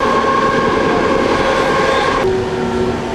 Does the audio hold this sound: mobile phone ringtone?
no